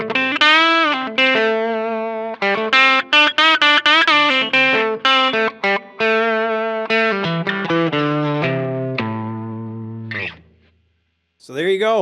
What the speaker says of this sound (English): Okay, and then I added a reverb to it, spring reverb.